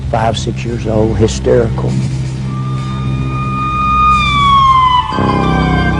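An ambulance siren wails in long gliding tones that rise and fall, loud and close, while someone speaks over the start of it and low engine rumble runs underneath.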